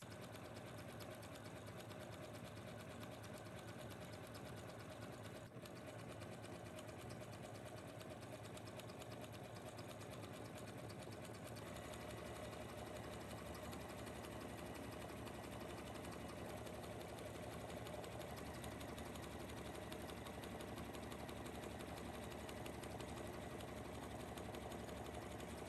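A sewing machine running a zigzag stitch on elastic, a steady fast mechanical whirring and clatter that continues unbroken and close for the whole stretch, with no talk over it.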